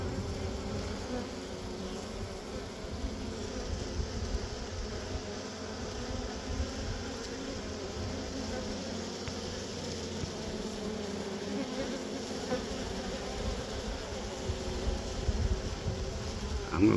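A steady, dense insect hum of a rescued swarm of bees droning together close by in a swarm box, continuous and even throughout with no speech.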